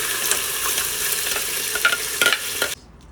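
Cumin and spices stirred in a hot Instant Pot make a continuous sizzling fry with scraping strokes from the stirring, up close, until the sound cuts off abruptly near the end.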